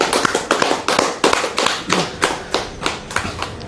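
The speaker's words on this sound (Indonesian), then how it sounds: "Boleh, tepuk tangan." Audience applause during a religious lecture: loud, close hand claps in an irregular but steady stream of sharp taps, filling the whole stretch.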